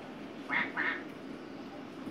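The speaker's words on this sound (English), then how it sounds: "That's a duck." A duck gives two quick, distinct quacks close by in a home setting, followed by quieter ambient room noise.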